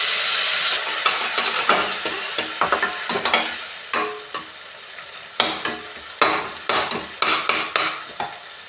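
Oil sizzles steadily in a pan while a utensil scrapes and stirs in repeated sharp strokes, frying tomato, green chilli, ginger and spices for cauliflower curry, close and fairly loud, with no talking.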